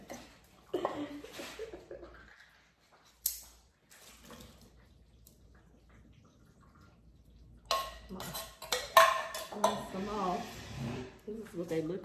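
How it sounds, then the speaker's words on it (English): Oxtails rinsed and strained in a kitchen sink: intermittent bursts of running water and clattering as the meat is handled, separated by quieter gaps, with people talking in between. "rinse them off. Strain them in the sink."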